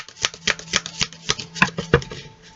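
Tarot cards being shuffled by hand, a quick series of crisp riffling flicks and soft slaps at a steady rhythm, close and clear with no talking.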